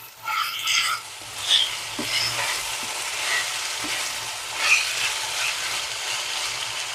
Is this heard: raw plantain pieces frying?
yes